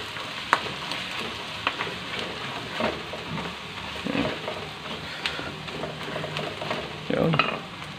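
Ilocano bagisen cooks in a pan, with a steady crackling sizzle and the scrape of a utensil stirring now and then, close and moderately loud, and no voices.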